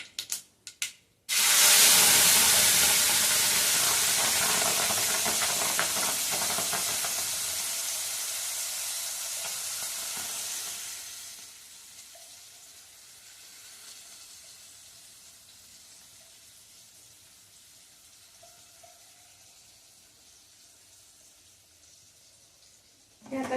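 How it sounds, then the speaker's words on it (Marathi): A tomato, garlic and ginger paste hits hot oil with hing and turmeric in a pan and bursts into loud sizzling spatter, which gradually fades to a quieter, steady frying hiss. "छान असं मीडियम गॅसवर परतून घ्यायचंय हे"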